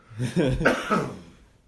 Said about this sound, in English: I'm having a coughing fit here.